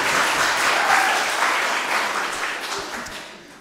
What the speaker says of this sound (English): the boys and girls need a round of applause for that this morning